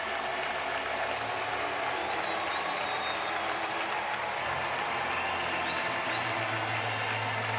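Baseball crowd at a Giants versus Braves game cheering and applauding steadily, a dense wash of clapping and voices filling the whole stretch at even loudness.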